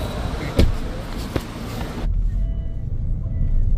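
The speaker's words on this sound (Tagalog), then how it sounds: "Sasakyan namin, papunta sa hotel." Car interior ride on the transfer from Hanoi airport to a hotel, with a steady low engine and road rumble, a couple of brief knocks, and the noise turning smoother and quieter midway.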